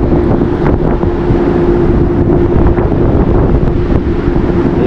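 Steady wind gusts buffet the microphone on the starboard deck of a ship in Glacier Bay, Alaska, a loud continuous rush with a faint low engine hum beneath and no voices.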